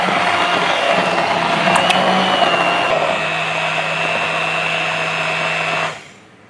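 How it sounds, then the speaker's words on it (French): A blender purees Dubarry cauliflower velouté soup in a pot, a loud, steady motor whine that drops in pitch partway through and then cuts off near the end. "Nous allons maintenant mixer le velouté."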